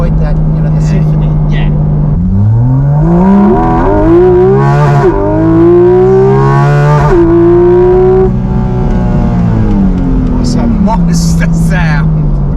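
Porsche GT4 RS engine revving and accelerating, rising and falling in pitch through several gear changes with strong intake noise from behind the cabin, loud and close from inside the car.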